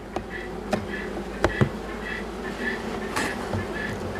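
Many bees hum in a dense, continuous drone close by, with a few sharp knocks and taps against the hive.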